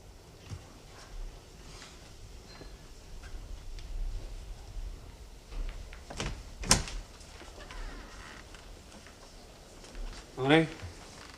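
A door slams downstairs in a house, one sharp knock partway through, with a second bump near the end amid quiet room ambience.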